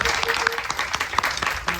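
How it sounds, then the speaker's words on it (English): Audience applause at the close of an onboard Disney Cruise Line cooking demonstration of apple strudel, a steady dense patter of many hands, fairly loud and continuous with a voice briefly over it. "keep that applause going for Chef Vivek"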